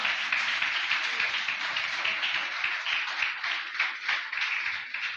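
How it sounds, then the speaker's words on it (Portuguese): A church congregation claps during a sermon, a continuous crowd patter of hands at moderate level that holds steady across the whole stretch with no speech over it. "Quem entendeu, o aplauso do Senhor nosso Deus bem forte."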